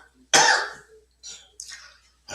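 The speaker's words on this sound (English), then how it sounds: "I can't really smoke and do a video because I cough too much" A person with congestion coughs close to the microphone, one harsh burst followed by a few shorter, rougher coughs and throat clearing separated by brief silences.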